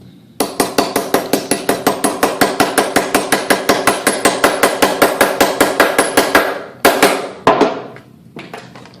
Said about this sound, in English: I hammer this on.